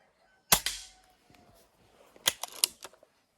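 A Hatsan mod. 25 air pistol fires with one sharp, close crack, followed about two seconds later by a quick cluster of lighter mechanical clicks and snaps.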